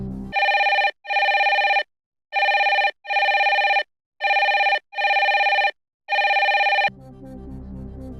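Video call ringing on a TV quiz show: a loud electronic ringtone in repeated paired bursts with short silent gaps, sounding four times before stopping and giving way to faint background noise.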